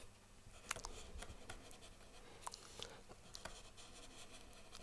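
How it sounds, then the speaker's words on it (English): A knife cuts into material during bookbinding work, making faint, close scratchy scraping with scattered small clicks and taps in a quiet room. "Once I've got a cut in there,"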